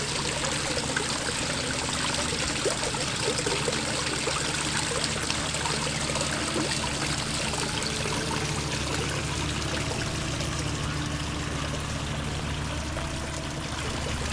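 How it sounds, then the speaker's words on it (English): Water from a garden waterfall on a farm flows steadily in a continuous, full rushing wash with no breaks, fairly close and alone without any talk. "look at the waterfall"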